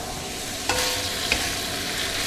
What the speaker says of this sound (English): work your mince until we get some colour on it. Break it all up as it cooks